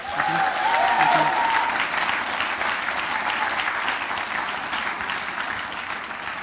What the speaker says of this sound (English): please can you give one final round of applause to tonight's panel